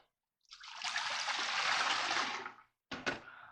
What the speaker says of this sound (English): So I'm just going to fill this halfway with water.